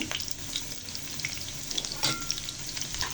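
Chopped garlic fries in oil in a pan, a continuous close sizzle with scattered crackles and a few stirring scrapes, no voices.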